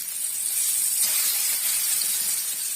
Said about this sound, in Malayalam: അപ്പൊ ചെമ്മീന് നമ്മ ഫ്രൈ ചെയ്യാൻ പോകട്ടോ.